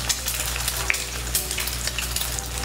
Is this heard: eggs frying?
yes